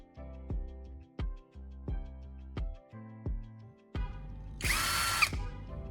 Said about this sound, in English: I will drill 2 holes through it.